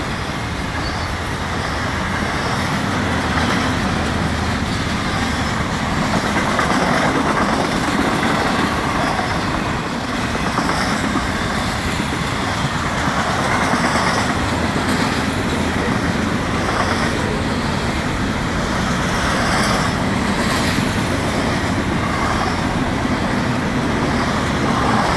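A long Florida East Coast freight train rolls past on a hot day, a steady, loud rumble and grinding of wheels that holds evenly throughout with no voices.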